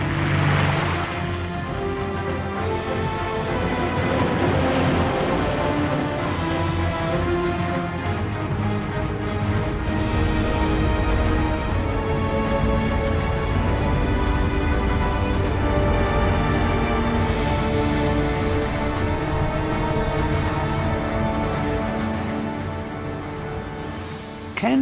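Huge ocean waves over 15 meters high breaking at sea, a loud, sustained roar and wash of surf that swells and rumbles across nearly half a minute, with music-like tones layered underneath and no talk.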